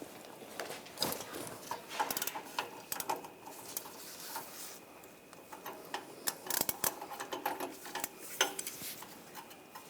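A ratchet turning an O2 sensor socket (7/8 in, 22 mm, slotted) to loosen the downstream oxygen sensor on a 2014-2022 Chevrolet Trax 1.4L, heard as a run of metallic ticks, clicks and clanks close by, with no talking.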